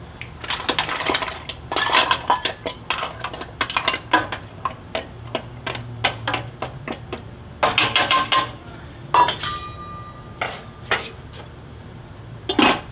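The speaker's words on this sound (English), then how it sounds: "we're going to start with our mussels, and we're going to let them cook for about 5 minutes before we put the rest of our meat in" Hard mussel shells clatter and clink into a metal stew pot for a fish stew, a busy run of sharp irregular knocks and rattles, close and fairly loud, with a few quieter pauses and no talking.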